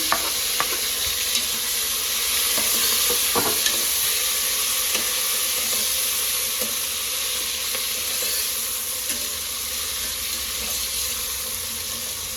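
Tomatoes fry in oil in a pan for biryani, giving a steady, even sizzle throughout with a few light stirring clinks and no talking.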